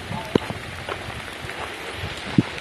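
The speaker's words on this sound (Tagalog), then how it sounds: "medyo may kalakasan na po na ulan" Heavy rain falls steadily on an overgrown six-hectare flat rural property along a barangay road in Calauag, Quezon, a constant wash of drops with a couple of sharp nearby splats.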